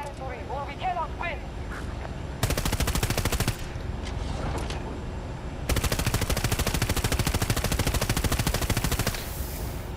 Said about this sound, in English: You getting shot at from the top left mountain.